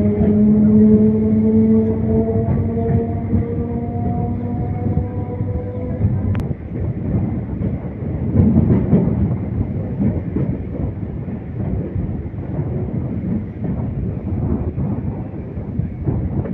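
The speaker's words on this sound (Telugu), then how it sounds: "ఇండుపల్లి నుండి అయితే మన ట్రైన్ అయితే బయలుదేరిపోయింది." A MEMU passenger train rolls along the rails with a steady low rumble heard from on board, a fading horn-like tone at the start and a sharp click midway.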